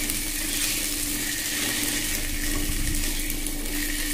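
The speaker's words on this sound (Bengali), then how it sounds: "একটু নেড়ে ছেড়ে নিচ্ছি।" Small taro pieces (gathi kochu) are frying in a pan and being stirred, giving a loud, steady, even hiss of sizzling oil with no breaks, close by.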